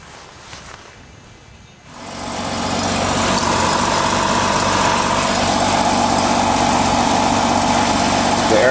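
A BMW E36 car engine cranks and catches, then settles into a steady, fairly loud idle that holds to the end after a quieter opening.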